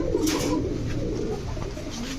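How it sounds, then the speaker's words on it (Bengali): Pakistani Kaldam pigeons cooing in soft repeated low throaty calls over a steady background hum, close by and without talk. "এখন দেখাবো পাকিস্তানি কালদম কবুতর।"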